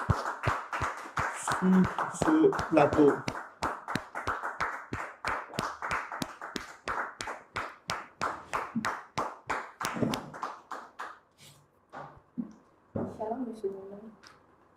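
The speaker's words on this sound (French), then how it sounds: "On les reçoit par des applaudissements" A studio audience on a TV show set claps in a rhythmic unison beat that gradually thins and breaks into scattered claps, with a brief spoken phrase in French partway through.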